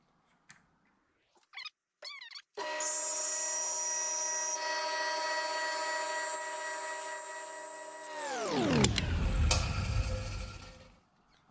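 X2 milling machine motor spinning up after a few clicks, holding a steady whining hum, then winding down with a falling pitch and low rumble before stopping.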